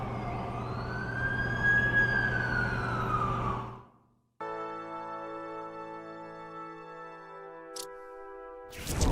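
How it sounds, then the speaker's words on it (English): In The Amazing Spider-Man 2 video game, an ambulance siren wails in rising and falling sweeps over traffic rumble, then cuts off abruptly as steady music tones take over. "That's the ambulance I called."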